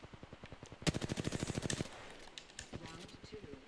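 In the Apex Legends video game, an automatic weapon fires one rapid burst of about a dozen evenly spaced rounds, followed by quieter game sounds and scattered shots.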